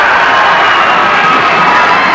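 Hockey crowd at a St Stephen's vs Brother Rice game roaring in a steady, dense wall of cheering and shouting after a hit, loud and continuous throughout.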